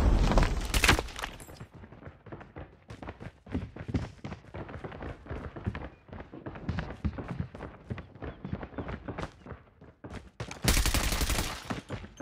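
Rapid gunfire bursts in a Call of Duty Mobile team deathmatch, dense crackling volleys and single shots firing in uneven clusters, loud and near, with heavier blasts at the start and end.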